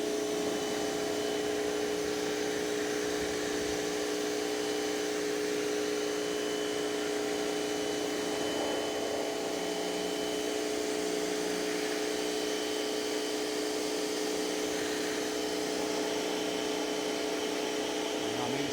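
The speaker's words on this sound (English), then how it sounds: "we're giving it a good jet wash" A pressure washer jet-washes a heavily soiled car from about one to two feet away, giving a steady, continuous hiss and pump drone that stays level throughout with no pauses.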